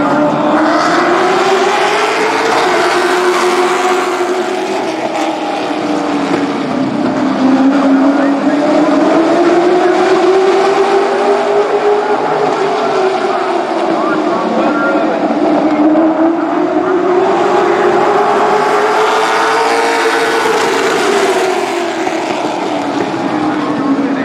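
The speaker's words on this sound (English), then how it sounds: "Monday Morning Racer presents from Anderson Motor Speedway in South Carolina, limited late models." Limited late model race cars roar around Anderson Motor Speedway, a South Carolina short track, in a loud continuous engine drone that rises and falls as the pack laps past.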